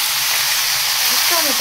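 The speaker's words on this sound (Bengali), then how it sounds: "এই যে জিরে ফোড়ন দিয়েছি তেলের মধ্যে" Cumin seeds crackle in hot oil with a loud, close, continuous sizzle, and a brief voice surfaces near the end.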